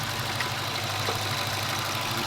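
A Dodge Hellcat V8 idles with a new aftermarket intake fitted, a steady low rumble heard close up for a couple of seconds, alone without talk.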